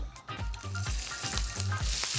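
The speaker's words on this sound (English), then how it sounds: "Anything less than that sizzle, when you put that first prawn in there, don't put them in." Prawns sizzle and crackle in a very hot pan with a teaspoon of olive oil: a busy, continuous frying hiss with repeated soft thumps and scrapes as they are laid flat, heard close with no talk.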